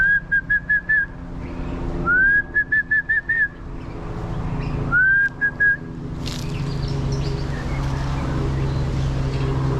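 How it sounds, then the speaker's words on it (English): Clear melodic whistles of a shama thrush in short repeated phrases, a few bursts separated by pauses, over low background rumble, on Oahu's North Shore. "It's a Southeast Asian singing bird, and it makes these beautiful melodic sounds."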